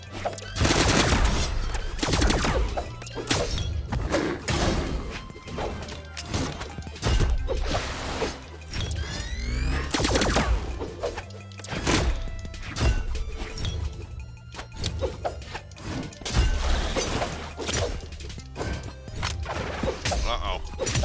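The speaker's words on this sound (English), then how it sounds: "there's those guns again" Guns firing in the video game Brawlhalla, repeated crashing shots and impacts spread throughout amid busy game music and effects, with a voice speaking at times.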